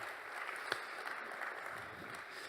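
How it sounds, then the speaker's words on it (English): Church congregation applauding, a steady wash of many hands clapping at moderate distance, even and continuous for a few seconds with no voices standing out. "Let's give them a round of applause."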